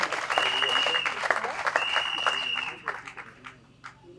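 An audience applauds steadily at a formal ceremony in Congo as names are called out, with the clapping dense for about three seconds and then thinning, and voices and cries rising over it.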